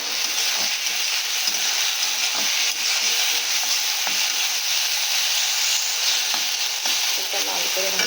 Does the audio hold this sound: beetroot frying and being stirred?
yes